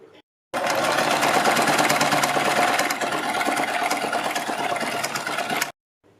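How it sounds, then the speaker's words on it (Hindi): A sewing machine stitches along a fabric strip for a kurti neckline, a fast, steady mechanical rattle lasting about five seconds, close and loud, starting and stopping abruptly. "अब हम इसके ऊपर सिलाई लगा लेंगे"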